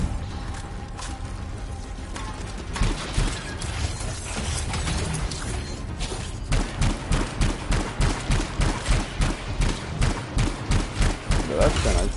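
Rapid rhythmic weapon fire in the Anthem video game, starting as a busy clatter and settling into a regular burst of evenly spaced loud shots, with some talk mixed in.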